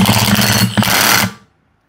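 Impact wrench tightening a fitting on a K swap radiator install in a fifth-generation Honda Prelude, a loud, close, continuous rattling burst of about a second and a quarter that cuts off abruptly into silence.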